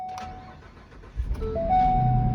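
A salvage-auction car engine cranks briefly and catches, then settles into a steady idle, loud and close, with a faint tone running underneath.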